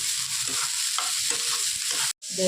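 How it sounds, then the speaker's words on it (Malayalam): Spring onion sautéing in hot oil for a Kerala spring onion and egg thoran, a steady close sizzle with occasional stirring scrapes and a brief break near the end. "എണ്ണയിലേക്ക് ഞാൻ ഇത് ഇട്ട് കൊടുത്തിട്ടുണ്ട് നമുക്ക് നന്നായിട്ട് ഇത് വാട്ടി കൊടുക്കാം"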